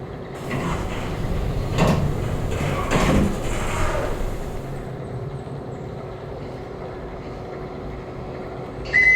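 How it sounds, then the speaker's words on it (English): Lift doors slide open on a 1990s Otis Europa elevator in the Roblox video game, a smooth mechanical whoosh with a couple of soft thuds near the start, then a quieter hum and a brief click at the end. "Nice advanced door opening."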